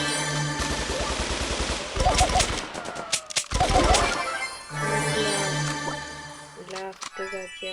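Gunfire in the video game Brawl, bursts of rapid automatic shots with tinkling and crashing effects, loud and close, alternating with stretches of game music and sound effects.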